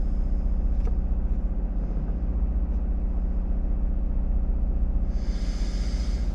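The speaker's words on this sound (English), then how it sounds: "I'm currently waiting on my car to warm up because I just started it" A car engine idles just after being started, warming up with a steady, even low rumble throughout, and a brief hiss rises near the end.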